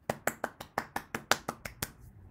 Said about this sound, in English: Let's clap and give ourselves a round of applause.